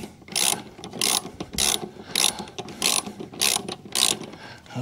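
A wrench ratchets in seven evenly spaced bursts, each a crisp, rapid clicking of the pawl, while loosening a blade bolt on a Kubota 60-inch mower deck, close up with brief pauses between strokes and no talk.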